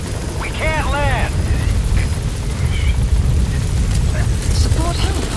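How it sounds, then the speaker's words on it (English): Steady rumbling rotor and engine drone of a support helicopter in Metal Gear Solid V, continuous and loud, with chirping radio-like tones and voices heard over it. "Support helicopter has arrived."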